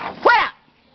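A dog gives a single sharp bark up close at a home where young children are playing, loud and brief, then quiet.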